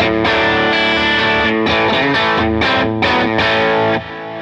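Fuzzed electric guitar through a NERO fuzz pedal and an AC30 amp model, loud and gritty, strumming rhythmic chord stabs with short gaps before the last ring fades slightly, no talking.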